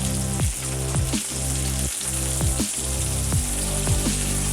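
Chapli kabab frying in oil in a pan after being turned over, a steady close sizzle with scattered pops and crackles running throughout, no talking.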